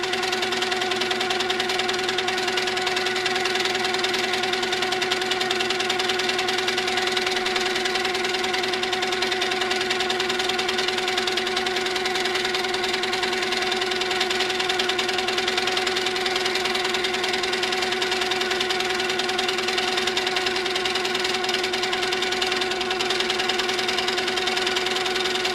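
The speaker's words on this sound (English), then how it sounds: "Stitching the ribbon candy around the inner circle, filling all the available space out to the second line." A sewing machine hums steadily while stitching a ribbon candy quilting pattern around an inner circle, a constant mechanical drone with a whirring motor tone that runs unbroken throughout.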